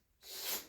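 A pet cat named Max sneezes once, a short sharp breathy burst rising abruptly and fading within half a second, faint and at a slight distance in a quiet room.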